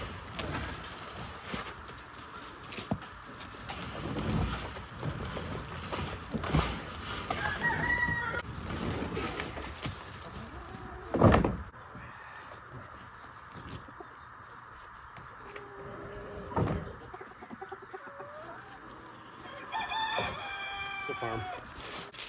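Roosters crow and hens cluck on a farm, with several long crows rising and falling at mid-distance amid scattered clucks and soft background farmyard noise, and no speech.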